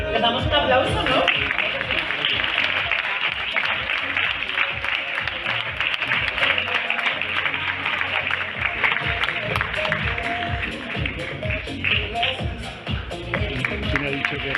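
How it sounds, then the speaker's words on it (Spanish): The crowd at a sports gala in Jaraíz de la Vera, Cáceres applauds an athlete in a long, sustained burst of clapping that fills the hall, with voices faintly underneath. "Les damos un aplauso, ¿no?"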